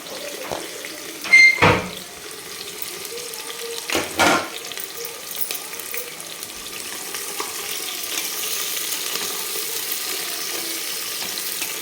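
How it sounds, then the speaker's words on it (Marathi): Onion sautés in a pan with cumin seeds, a low continuous sizzle across the whole stretch, broken early by a few loud clattering knocks of a spoon against the pan. "कांदा छान एकदम असा सोनेरी कलरवर आपल्याला परतून घ्यायचा आहे"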